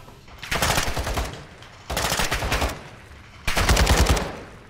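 Three loud bursts of automatic gunfire from a firefight in the Call of Duty Modern Warfare 2 campaign, each rapid volley lasting about a second with short gaps between them, close and dominant with no talk over it.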